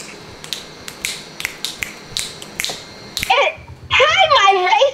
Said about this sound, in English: This is how you snap.